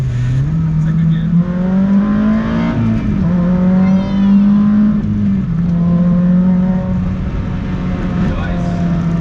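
A Honda DC5 with a swapped K24 engine pulls hard in second gear, its loud steady engine note climbing and holding close in the cabin, with a brief dip at a shift point.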